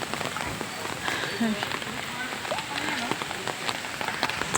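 Rain pours steadily at Nisargadhama nature park, a dense, even hiss filling the whole stretch at moderate volume, with no voices and only faint scattered sounds beneath it.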